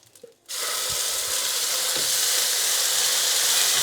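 Curry paste and three lime leaves hit hot oil after a brief soft rustle, then a loud steady sizzle and frying hiss continues close up without talking.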